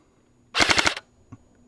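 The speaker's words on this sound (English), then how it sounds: "Let's try a wee full auto burst." A G&G L85 airsoft rifle fires a short full-auto burst of about six rapid mechanical shots, close and crisp, followed by a faint single tap moments later.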